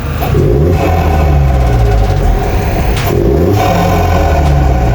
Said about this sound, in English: should we keep the intake in the Audi? Is it a good sound?